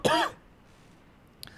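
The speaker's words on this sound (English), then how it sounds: "Oh, no, I've got that weird, like, tickle cough thing." A single harsh throat clearing bursts out close at the start, rough and breathy, then fades into near silence before a tiny faint click near the end.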